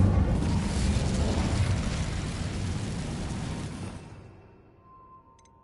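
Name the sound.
Incendio fire spell cast in Hogwarts video game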